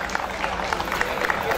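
A concert crowd at a live show in Máximo Paz gives the bass player a brief burst of steady clapping mixed with crowd noise and voices.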